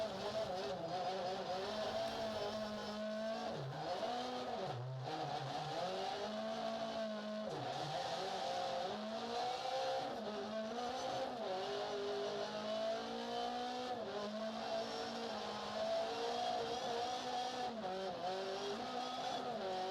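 Rally car in Dirt Rally 2.0 at Lohéac, France, engine held near open throttle, droning steadily with pitch rising and falling through gear changes, loud and continuous.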